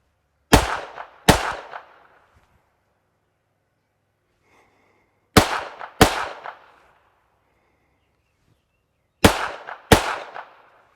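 A Canik Mete SF handgun fires controlled pairs at 5 yards: three double shots, each a sharp, loud crack quickly followed by a second, with a short ringing decay and quiet gaps between pairs.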